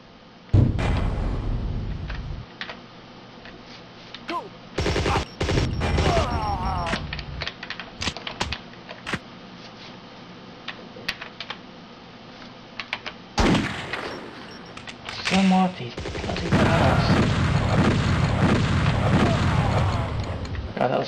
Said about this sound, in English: God, that was a waste of shotgun shells